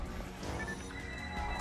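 Horse enemy in the online game PSO letting out a loud, close neigh over steady game noise, one sustained whinny with a faint clatter beneath.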